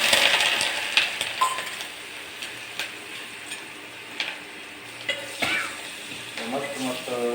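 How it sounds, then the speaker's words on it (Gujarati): Green chillies tempered in hot oil with cumin and asafoetida for a village-style chilli kadhi, a bright crackling sizzle with spoon stirs and metallic clinks against the pot, close and without speech. "જીરું નાખી દીધું પણ આ મરચાં વઘારી નાખું."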